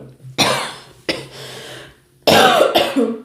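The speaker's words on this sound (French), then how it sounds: "Ça se peut que je me mette à tousser." Several harsh coughs from one person, close and loud: a burst, another cough about a second later, then a pair of rough coughs near the end.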